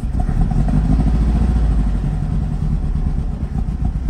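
A 1969 Volkswagen Beetle air-cooled engine, cold, runs close by at a loud, lumpy idle, with a steady low chugging and rattling clatter throughout.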